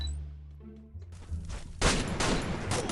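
Gunfire in a sniper shooting video game, a low hum giving way to a burst of loud rapid shots and blasts toward the end.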